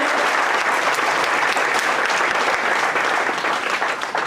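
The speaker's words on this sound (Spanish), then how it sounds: "Dale un aplauso al Señor esta mañana" Church congregation applauding at a morning service, a dense, loud, continuous wash of many hands clapping together that holds steady throughout.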